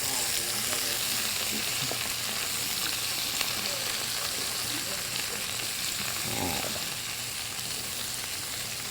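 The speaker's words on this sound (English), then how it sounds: "Let me stir this up while it's cooking there." Tiropittes filling is stirred as it cooks in a pan, giving a soft, steady sizzle with faint scraping, and a voice murmurs briefly midway.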